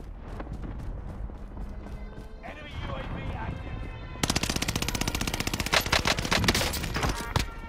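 Gunfight in Warzone Pacific, with rapid automatic gunfire erupting in dense bursts partway through after quieter in-game ambience, while a player talks over it.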